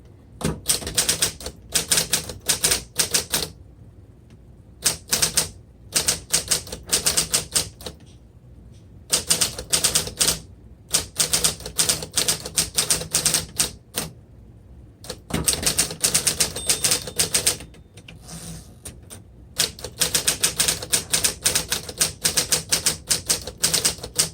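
A 1959 Smith Corona Electra 12 electric typewriter types in loud, rapid bursts of key strikes, separated by short pauses, with no voices.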